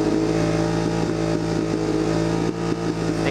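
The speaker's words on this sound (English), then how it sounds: "Keep revving it." A motorcycle engine with an electrical fault runs at steady high revs, a loud continuous drone with slight dips, close by and with no one talking.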